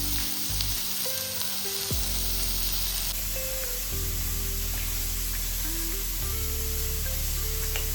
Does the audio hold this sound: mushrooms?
yes